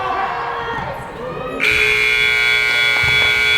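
A loud, sustained electronic buzzer sounds at the end of a high school boys' basketball game against Medford, cutting in over crowd noise in the gym and holding steady for about two seconds.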